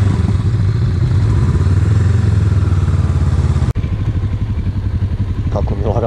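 A motorcycle engine drones loudly and steadily while riding on a trip from Zagreb through Fužine to Omišalj, with a deep low rumble and wind noise and a brief dropout partway through.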